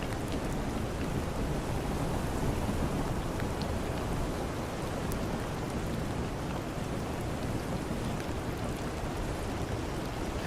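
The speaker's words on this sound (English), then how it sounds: "The rain came down across the water, fine and even" Dense, steady rain hissing evenly over open sea, a constant wash of sound with no pauses or voices.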